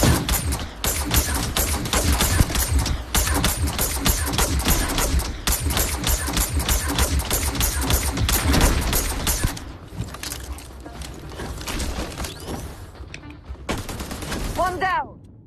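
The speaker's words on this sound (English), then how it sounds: "we are absolutely burning through ammunition with this gun. We went through 700 rounds with this" A DMR rifle in a sci-fi shooter fires rapid, sustained volleys, loud and close for about nine seconds, then quieter scattered shots follow, with a voice speaking at times.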